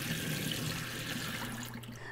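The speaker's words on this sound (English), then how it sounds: "So let me pour this in the sink real quick." Water being poured out into a kitchen sink, a steady, moderately quiet rush of liquid draining that tapers slightly near the end, with no talking.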